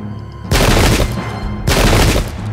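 Musket volleys from massed infantry in the strategy video game Pike and Shot Campaigns: two loud, crackling bursts of overlapping shots, each lasting about a second, with dense rattling fire following a brief quiet opening.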